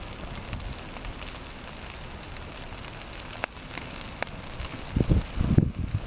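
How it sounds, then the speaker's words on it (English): Foil packets of Mexican sausages and rice cook on an outdoor fire with a steady steaming hiss, scattered small crackles and pops, and a few low bubbling thumps near the end. "I don't know if you can hear it steaming. I don't know what the noise is, bubbling."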